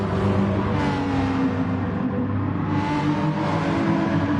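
Race car engines in a GT racing video game, an Aston Martin and a Porsche, drone steadily with a rising and falling rev, loud and continuous with no talk.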